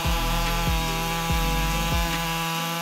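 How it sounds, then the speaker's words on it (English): A Husqvarna 562 chainsaw with a 59.8cc engine cuts through wood, its steady loud whine punctuated by regular dips as the bar bites, repeating about every half second with no voices. "The Husqvarna 562 Mech 218 chainsaw is considered a powerful machine."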